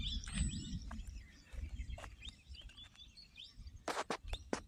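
Scattered bird chirps and short calls in a forest where yellow-beaked parrots sit in a nearby tree, sharp bright notes spaced irregularly over low rustling, with a quick cluster of calls near the end.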